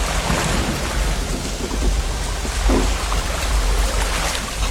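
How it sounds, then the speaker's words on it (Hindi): Heavy village downpour with rumbling thunder and strong wind, a dense continuous roar of rain on surfaces with low rolling thunder beneath, loud and unbroken throughout. "सिर्फ बिजली कड़कने की आवाजें आ रही हैं।"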